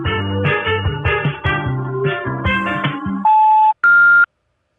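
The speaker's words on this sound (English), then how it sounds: "Leave a message after the beep." After a short melodic phone jingle, an answering machine sounds two loud, sustained electronic beeps with a brief gap between them, then falls silent.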